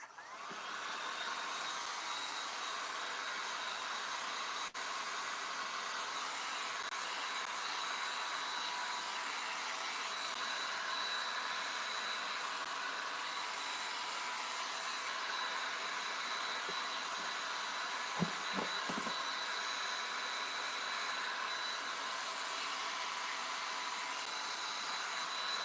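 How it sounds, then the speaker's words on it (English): A hair dryer is used to dry gesso and milk paint on a flat surface. It gives a steady, even blowing hiss that runs unbroken throughout, with one brief knock near the end and no talking. "forgive the dryer."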